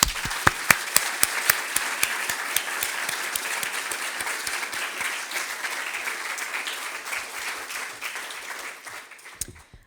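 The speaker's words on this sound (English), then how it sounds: "So I want to have a big round of applause for all of our green impact winners." Audience applauding winners at a sustainability awards showcase, a full, steady burst of clapping from a sizable crowd with some sharp individual claps standing out near the front, gradually thinning toward the end.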